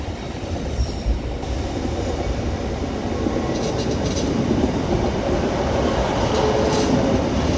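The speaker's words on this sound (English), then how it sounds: "1355 Northern service from Manchester Oxford Road terminating in now" Northern trains, class 156 number 156460 leading with a class 150 on the rear, rumble steadily into Liverpool Lime Street, a continuous low rolling drone of wheels with faint squeal and clatter throughout.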